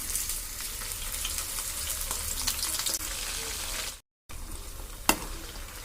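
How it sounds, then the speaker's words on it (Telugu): Prawns for prawns 65 deep frying in hot oil: a steady, dense crackling sizzle runs throughout, close and fairly loud, broken by a brief dropout and a single sharp click near the end. "ఇప్పుడు అందులో మనం వీటిని వేసుకొని ఫ్రై చేసుకుందాం"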